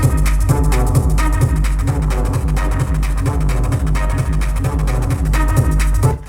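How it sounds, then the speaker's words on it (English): A loud, heavily distorted techno loop with a thumping kick and gritty, crunchy synths repeating steadily for several seconds before cutting off. "So you can do heavy distortion with this thing as well."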